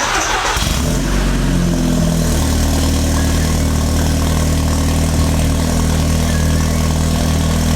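An Audi TTS Mk2 (8J) engine with an upgraded, louder exhaust cranks and catches, then settles into a loud, steady idle with a deep, throaty exhaust rumble.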